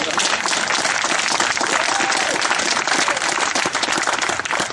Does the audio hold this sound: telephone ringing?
no